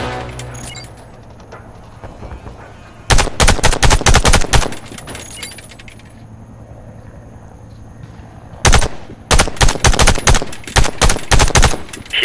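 Bursts of rapid automatic gunfire aimed at targets in the Warface shooter game, two loud sustained volleys separated by a quieter stretch, with a brief burst at the start.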